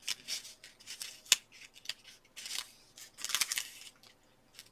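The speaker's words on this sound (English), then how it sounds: "I just quickly cut these," Scissors snip through paper for a Christmas tree scrapbook layout, a series of quick close crisp cuts in uneven bursts with small pauses between them, and no talking.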